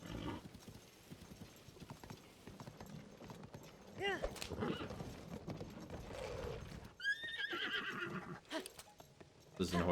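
A horse in the video game The Legend of Zelda: Tears of the Kingdom neighs and whinnies loudly in several bursts over a steady clip-clop of hooves, with game sounds and a speaking voice mixed in.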